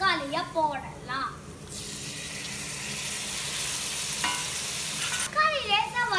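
Tomatoes and onions sautéing in a pan for sambar rice give off a steady soft sizzle with stirring, while a voice talks over the start and end.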